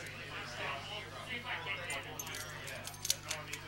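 Keys jangle faintly and intermittently, with a few brighter clinks near the end, over a steady low hum and background noise.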